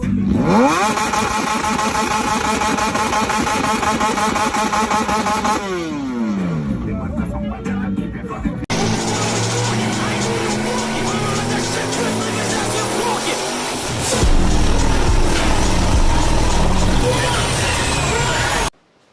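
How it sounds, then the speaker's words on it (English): A loud motorcycle with a modified exhaust, harsh and throaty, revs and accelerates repeatedly, engine pitch climbing and dropping, with shouting voices mixed in. "Modified exhaust systems serve no purpose other than to create fear, chaos, and intimidation"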